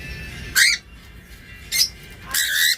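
Pet birds give three shrill squawks, loud and close, spaced irregularly over a few seconds with quiet background between calls.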